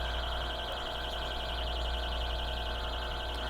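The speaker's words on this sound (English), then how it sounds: "the sound that is coming from our little alarm device" A steady electronic alarm buzzer inside a vacuum chamber drones continuously, a pulsing high tone over a constant hum, holding at a fairly even level throughout.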